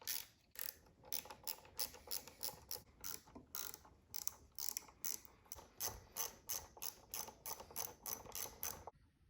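Rapid ratcheting clicks in repeated bursts as screws are driven into the seat recline gear cover of a BMW E36 seat, close and steady, with no talking.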